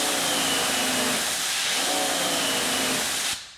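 A Wholesun 3000 psi electric pressure washer runs with a loud, steady rushing hiss of spray whose pressure wavers slightly, then drops away abruptly just before the end.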